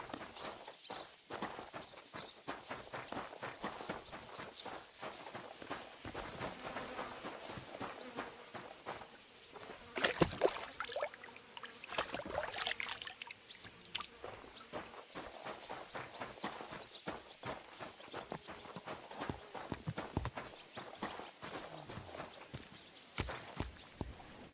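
Hooves clip-clop in a steady walking rhythm throughout, close and continuous, with a brief louder clatter partway through, from the video game Kingdom Come: Deliverance II.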